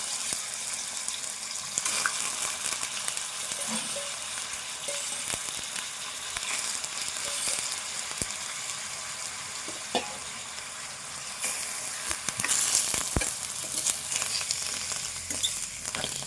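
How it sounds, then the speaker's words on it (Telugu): Goat liver fries in a little oil with turmeric, giving a steady close sizzle throughout, broken by occasional scrapes and clinks of a spoon stirring the pieces in the pan. "ఇప్పుడు ఇది కొద్దిసేపు మంచిగా ఫ్రై చేసుకోవాలి."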